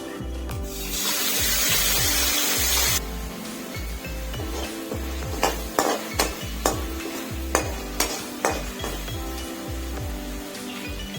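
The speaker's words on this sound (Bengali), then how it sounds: "ওই তেলে আমি এবারে দিয়ে দেবো শুকনো লঙ্কা এবং আদা বাটাটা" Dried red chillies and ginger paste hit hot oil in a kadai, giving a loud broadband sizzle for the first few seconds that settles into a steady frying hiss, with sharp clinks and scrapes of a utensil stirring near the end.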